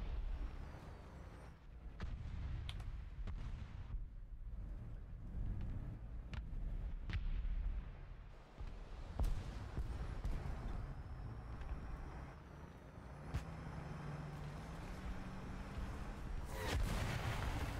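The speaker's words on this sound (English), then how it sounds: "Who is firing the missiles at me?" Repeated missile launches and explosive blasts in a video game, a series of sharp booming bursts scattered across the stretch with rumbling tails, moderately distant and fairly quiet.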